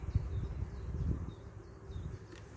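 A sparse few bees drone in the super box on top of a hive on a hot day, a faint low buzz that wavers without pause.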